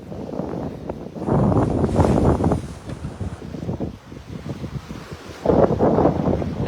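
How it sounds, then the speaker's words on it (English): Wind buffets the microphone in rough, rumbling gusts of about 18 to 21 knots aboard a sailboat at sea, swelling and fading, with the strongest bursts near the start and again at the end. "We're getting little gusts sometime."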